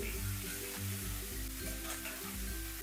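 Flat beans and potatoes fry on a high flame with a faint, steady sizzle, overlaid by a low droning hum from a nearby burner or exhaust fan.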